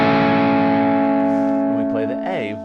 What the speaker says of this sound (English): we're going to palm mute and chug on this D